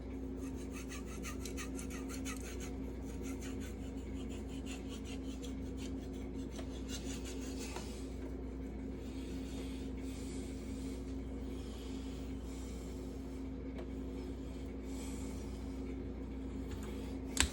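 A blade grinding and rasping on a fine 2 to 3 micron Venev resin-bonded diamond finishing stone, steady scraping strokes running continuously at close range, with no talking.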